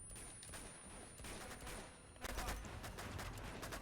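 FAL rifle fire in the video game Uncharted 2, a dense burst of rapid shots and gunfire clatter that grows louder halfway through, with no talking.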